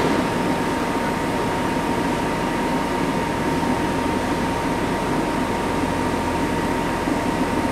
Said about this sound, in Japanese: 6番線列車発車いたします。